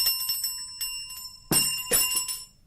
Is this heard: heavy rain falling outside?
no